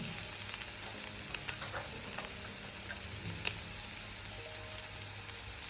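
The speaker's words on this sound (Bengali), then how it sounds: "এখন ভালোভাবে আবার ভেজে ভালোভাবে নাড়িয়ে ভেজে নিব।" Spices for polau, including garam masala, frying and being stirred in a pan, a steady close sizzle with scattered scrapes and clinks and no talking.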